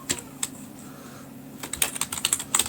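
Code being typed on a computer keyboard, close and fairly loud, a short burst of keystrokes, then a pause, then a faster dense flurry of clicks, with no talk.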